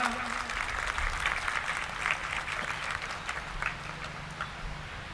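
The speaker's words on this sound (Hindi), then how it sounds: "एक बार जोरदार तालियां।" An audience at a peace award ceremony applauds, a steady, fairly distant wash of clapping that carries on evenly throughout with a faint voice underneath.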